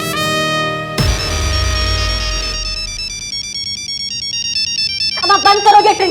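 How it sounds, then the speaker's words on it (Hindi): A mobile phone ringtone plays loudly, a bright repeating electronic melody lasting the whole stretch, with a brief burst of low rumble near the start and a busier run of tones at the end. "ये चेंज करो अपना रिंगटोन, हमारा खोपड़ी घूम रहा है इससे"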